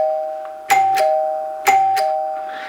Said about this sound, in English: when you ring a 2-note, you get a standard chime